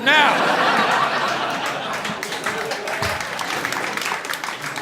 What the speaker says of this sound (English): for those of you at home, that was also your time to clap